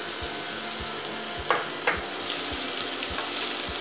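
Shredded ginger, with minced shallot, fries in hot annatto oil in a pan, a steady crackling sizzle with a couple of sharp stirring clinks, faint low periodic thumps underneath.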